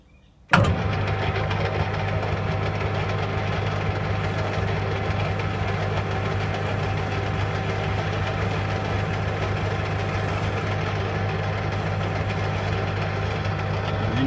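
Honda S600 engine, freshly rebuilt, cranks briefly and fires with a sudden start, then settles into a steady, loud, close idle with a constant low hum that runs without a break to the end.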